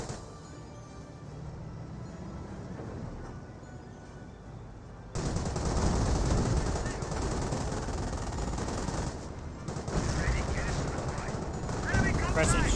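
A Stuka dive bomber's strafing barrage in Company of Heroes comes in as a sudden, loud, sustained roar of machine-gun fire and engine noise halfway through, over quieter battlefield rumble and faint voices.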